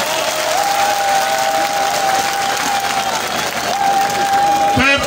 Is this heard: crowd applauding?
yes